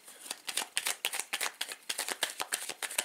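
Deck of tarot cards being cut and shuffled by hand, a quick close series of crisp riffling card flicks and snaps in uneven bursts, alone and fairly quiet.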